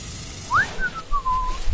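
A sentinel drone in the video game No Man's Sky gives a whistling electronic call: a quick rising chirp, then several sustained, gently falling tones over a low ambient rumble.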